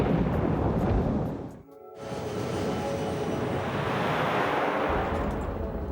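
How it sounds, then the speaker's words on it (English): Airliner in flight near a severe thunderstorm, a heavy continuous rumbling roar with a brief sudden drop, then the deep steady rumble returns. "they're heading straight into the heart of a thunderstorm."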